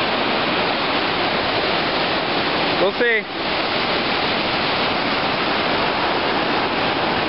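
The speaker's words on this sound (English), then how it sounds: "First look at the river." A river rushes loud and continuous in a steady broadband roar outdoors at a gold prospecting spot, with someone speaking briefly over the water.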